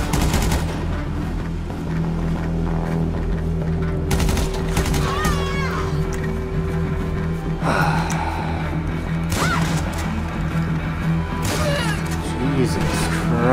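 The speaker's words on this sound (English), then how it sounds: "Two fucking shotgun bullets? And like three SMG shots?" Shotgun and SMG gunfire in GTA V comes in a few sharp bursts over a steady backdrop of game sound, loud and close, with a voice gasping in between.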